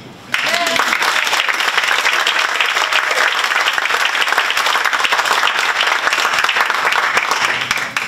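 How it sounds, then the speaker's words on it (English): Loud, sustained audience applause at a university sports conference closing ceremony, honoring staff and volunteers; dense clapping starts abruptly and holds steady throughout before tapering slightly at the end. "an essential group of people deserved a big applause"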